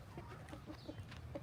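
Chickens from an old backyard flock cluck in short, soft bursts, several quick calls close by over a low background murmur.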